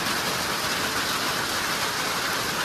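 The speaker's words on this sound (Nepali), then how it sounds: "यहाँनिर हाम्रो असिना पानी परिरहेछ" Hail and rain fall at Basantapur in Nepal, making a continuous, dense broadband hiss that stays level for the whole stretch with no voices.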